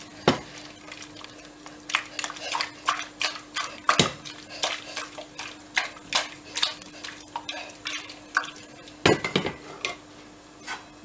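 A spoon stirring a quince tajine with spices in a pot: a string of close, sharp metallic clinks and scrapes in an irregular rhythm, with a few louder knocks against the pot and a faint steady hum underneath.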